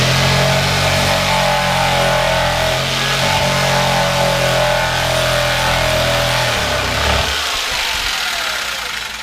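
A saw blade cuts between drilled starter holes in a thick wood counter. A loud, steady motor drone with a buzzing tone runs close by, then drops away near the end.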